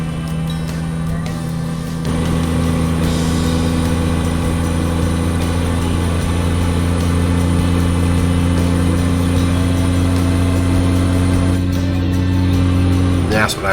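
A Cummins KT truck engine in American Truck Simulator drones loud and close, with a strong low steady hum that steps up slightly in pitch partway through and continues unbroken. Someone talks over it.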